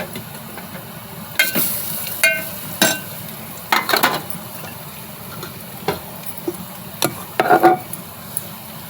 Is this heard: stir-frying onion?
yes